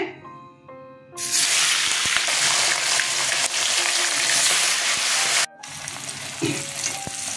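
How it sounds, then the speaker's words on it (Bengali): Spiced rohu fish pieces drop into hot mustard oil and burst into a loud, steady, close hiss of frying that carries on for several seconds, with a short break and a softer sizzle afterwards. "মশলা করা হয়ে গেছে, এদিকে তেল গরম হয়ে গেছে, মাছ ছেড়ে দিচ্ছি।"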